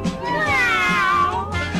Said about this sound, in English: I heard my cat meow.